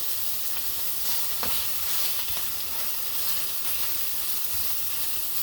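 Bacon frying in a skillet, a dense, steady crackling sizzle close by that keeps going throughout, with a few faint clicks and no talking.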